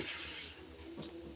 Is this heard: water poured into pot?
yes